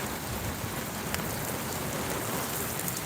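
Steady rain falls on a surface outdoors during a live street scene, a dense continuous hiss with scattered close drops, evenly loud throughout and with no talking.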